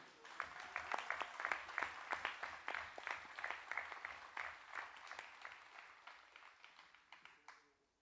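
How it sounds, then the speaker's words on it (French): An audience at a 2018 testimony event applauds young people, a steady run of many hands clapping that tapers off toward the end. "nous pouvons applaudir les jeunes que les ici, s'il vous plaît"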